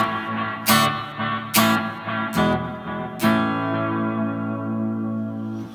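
Electric guitar played through an amp with extra reverb in the effects loop, four strummed chords struck in turn, each ringing on with a long reverberant tail, the last sustaining and fading slowly.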